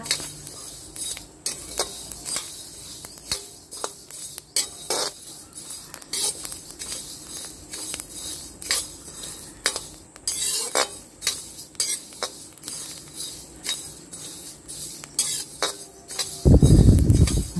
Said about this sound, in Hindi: पचास ग्राम मेथी अब इन्हें हल्का सा भून लेते हैं